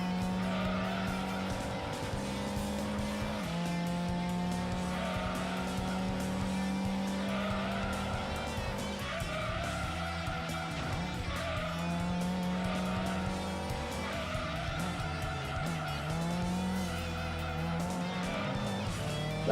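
A racing car engine in Gran Turismo 2 holds fourth gear, a steady sustained drone whose pitch climbs and dips in long sweeps, with tire squeal streaking over it throughout and no talk.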